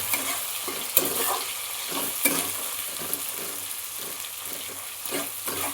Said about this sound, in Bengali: পেঁয়াজের সঙ্গে একসঙ্গে ভেজে নেব।